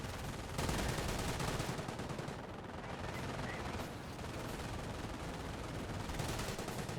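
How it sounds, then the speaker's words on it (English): MG42 machine gun fire in a Company of Heroes match, a dense continuous battle din of overlapping gunshots that holds steady and loud throughout, with commentary talk running underneath. "he will get flanked by the MG42 and will start being suppressed pretty quickly"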